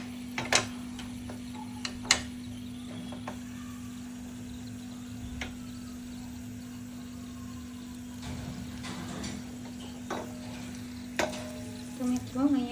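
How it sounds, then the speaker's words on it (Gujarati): Curry leaves and dried red chillies for tempering Gujarati kadhi crackle in hot oil, with scattered sharp pops and clicks over a steady hum and a brief burst of sizzling at the end. "હવે હું ગેસ ચાલુ કરીશ, ઉપર આપણે તડકો આપીશું"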